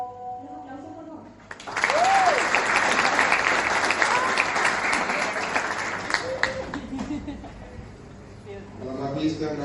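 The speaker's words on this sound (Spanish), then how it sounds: "Los aplausos, por favor." An audience at an academic event applauds an introduced speaker, a director of a political marketing diploma programme. The clapping starts abruptly and stays loud and dense for several seconds before easing, with a voice faintly heard near the start.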